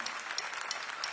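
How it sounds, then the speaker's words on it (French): Audience applause at a live concert, a steady wash of clapping from a crowd throughout, moderately quiet and continuous with no voices on top. "Je les entends applaudir, ça me réchauffe le cœur."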